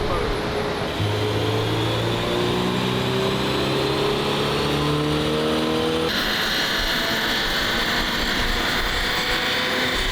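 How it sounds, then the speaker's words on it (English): A Toyota GR86 with its stock exhaust revs up on a dyno, engine pitch climbing steadily through the gears as the loud drone builds and then jumps higher near the end. "So we're just gonna see what the stock exhaust does for our baseline before we get started on installing all the rest of the catbacks"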